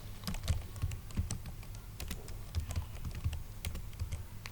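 Quiet typing on a computer keyboard while working in Microsoft Word, a steady patter of soft close keystrokes with no voice.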